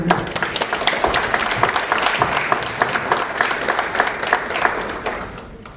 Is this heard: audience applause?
yes